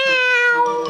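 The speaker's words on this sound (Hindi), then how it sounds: "अरे, वहाँ तो बिल्ली थी।" A cat in a Shin-chan cartoon gives one loud, close, drawn-out meow with a bright, bending tone.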